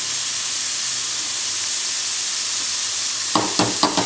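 Mushrooms with chopped parsley and thyme fry in a pan, a loud continuous sizzle and hiss that runs throughout, with a few short scraping stir strokes near the end and no speech.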